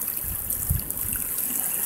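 Outdoor stream in freezing, snowy Ohio winter weather, flowing steadily with a continuous broadband rush and gurgle, close and fairly loud, with no talking over it.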